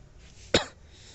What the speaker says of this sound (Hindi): और खांसी भी हो रही है मुझे